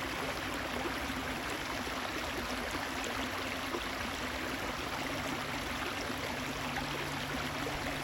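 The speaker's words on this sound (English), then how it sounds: "You can see its clear water moving effortlessly over smooth stones." A clear stream flows over smooth stones in a steady, unbroken rush of water, close and even throughout, with no voices.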